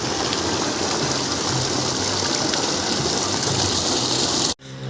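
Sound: water gushing at full pressure from serviced BLDC motor pump

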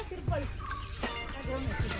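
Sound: chickens

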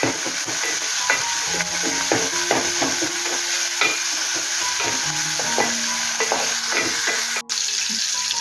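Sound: tomato added to hot pan, frying and stirring

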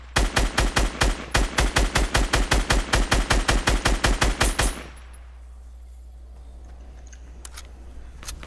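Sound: gunfire in a video game

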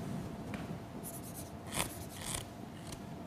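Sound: signing a playing card with a pen

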